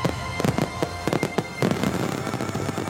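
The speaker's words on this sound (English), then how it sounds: "As the first fireworks fill the sky" Fireworks bursting in the sky over an outdoor stage performance, a rapid run of sharp, loud bangs and cracks in quick irregular succession, then a denser rolling crackle of overlapping explosions.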